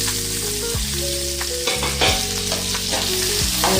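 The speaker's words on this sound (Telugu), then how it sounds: "ఇవన్నీ వేసుకుని కూడా కలర్ మారే వరకు వేయించుకోవాలి." Onion, green chili, curry leaves and ginger frying in ghee for semiya upma, a constant close sizzle with repeated spoon stirring and scraping, no talk.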